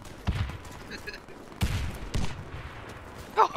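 Bursts of gunfire in the online shooter Warface, with several sharp volleys across the moment, broken up by a player's voice.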